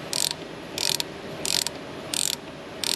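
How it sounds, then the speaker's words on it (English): A ratcheting tool cranks a puller that draws the crank pulley off a Toyota 2UZ-FE engine, sharp close bursts of rapid ratchet clicks repeating five times at regular intervals with quiet gaps between. "we have our puller installed. And as you can see, it's slowly and surely taking our crank pulley off."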